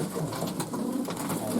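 Show pigeons coo softly in a small loft, a low continuous murmur of several birds close by with no talking.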